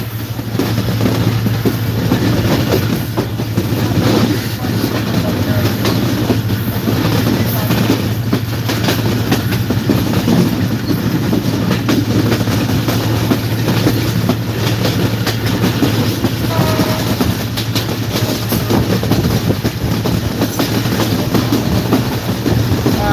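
Kopotaksha Express train running on rails, heard as a loud, steady, continuous rumble and rhythmic wheel clatter with a low droning hum that lasts throughout.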